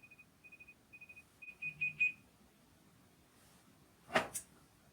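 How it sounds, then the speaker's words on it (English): Timer alarm sounding at the end of a seven-minute timer, a series of short, evenly spaced high electronic beeps that grow into a faster burst before stopping, followed by a brief handling clatter, in a quiet room. "That's our timer."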